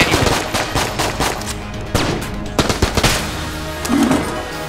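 Rapid bursts of gunfire from the video game Enter the Gungeon crackle in uneven clusters, sharp repeated shots with brief pauses between volleys, fairly loud.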